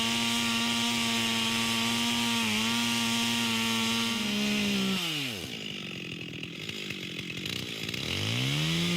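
A chainsaw makes the level second cut of a notch in a standing tree trunk. The engine screams at high revs, then bogs down and revs back up again and again as the chain bites into the wood.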